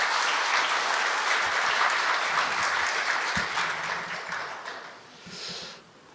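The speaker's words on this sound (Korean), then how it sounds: "우리 회장님께 큰 박수 한번 부탁드리겠습니다" Warm applause from the audience at a CEO forum, thanking a professor and chairman, with dense clapping that holds steady for a few seconds and then thins and fades.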